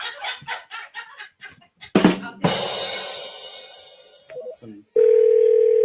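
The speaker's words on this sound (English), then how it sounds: "The phone is ringing." An outgoing telephone call on a live radio show, with clicks and line noise before a steady ringing tone comes through the handset.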